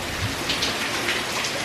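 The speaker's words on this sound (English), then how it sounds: "Just right now, a lot of rain." Heavy rain from Tropical Storm Harvey in Louisiana pours down in a dense, constant hiss of drops striking surfaces close by.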